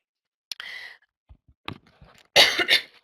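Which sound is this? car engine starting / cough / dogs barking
cough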